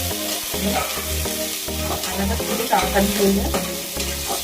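Spices stirred in a hot pan before vegetables go in for a chicken stew, a close, steady sizzle with rhythmic scraping strokes of a spoon, while a voice speaks briefly.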